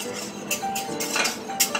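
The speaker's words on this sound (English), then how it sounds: "I'm just whisking it just so to get rid of any of the lumps, and then just to cook out the flour a bit" A whisk clinks and scrapes against a pan while flour is worked into melted butter for a roux, with quick irregular metallic taps and stirring, close and moderately loud.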